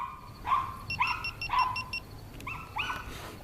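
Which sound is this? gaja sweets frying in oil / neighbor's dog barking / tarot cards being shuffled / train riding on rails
neighbor's dog barking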